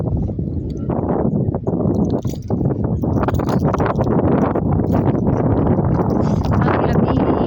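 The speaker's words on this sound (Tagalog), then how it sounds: "Ang lamig, hangin." Cold wind blows outdoors at a spot where birds gather, a loud, continuous buffeting rumble across the microphone with gusty surges throughout.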